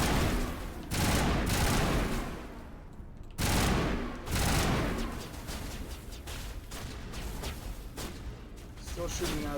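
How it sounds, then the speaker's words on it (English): Enemy gunfire in Mass Effect, heavy rolling bursts of shooting and blasts arriving in waves, loud and close with quieter stretches between, a voice speaking over parts of it. "Still shooting at us from somewhere."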